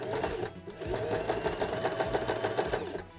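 A sewing machine stitches a felt organizer up close, its rapid, regular mechanical chatter running continuously and fairly loud, with a brief pause near the start and no talk over it.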